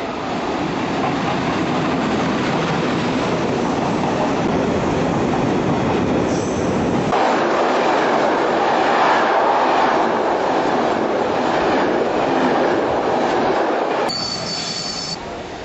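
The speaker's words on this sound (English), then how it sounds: "That's a local business train." A local train rolls past nearby in Rome, its wheels squealing and rumbling loudly along the rails, with no voices.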